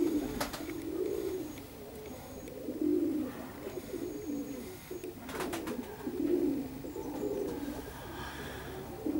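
Pigeons in Perm coo in soft, low, repeated rolling calls close by, with several overlapping birds and faint background noise, and no voices.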